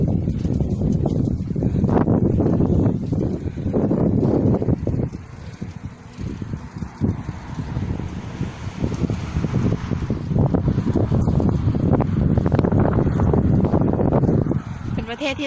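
Strong wind buffets the microphone while cycling in Japan, a loud rumbling roar that gusts unevenly throughout, with a person speaking under it.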